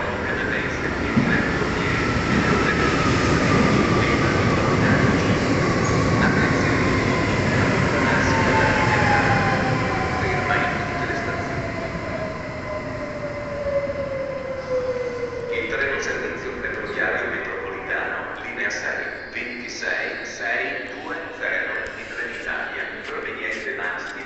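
A train runs through Porta Susa station in Turin with a sustained rumble and a long descending squeal, then turns to rhythmic clatter as the cars pass. A station announcement voice is heard over it.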